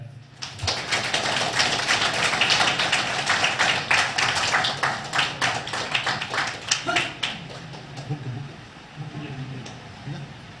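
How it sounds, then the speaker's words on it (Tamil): Audience at a Tamil astrology talk claps after an honouree is draped with a shawl and garland, dense steady applause lasting most of the stretch before thinning into scattered claps, with faint voices underneath. "கைத்தட்டல்"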